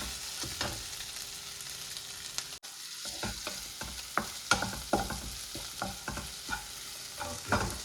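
Chicken mixture for ginger chicken sizzles in the pan after turmeric goes in, with repeated sharp scrapes and knocks of a spoon stirring it over a steady frying hiss, close and alone.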